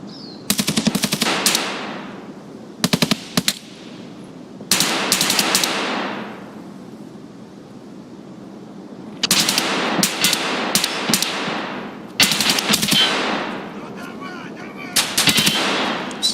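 Bursts of automatic gunfire from the Escape from Tarkov shooter game, several rapid volleys separated by short pauses, loud and close, each burst trailing off in a brief echoing tail.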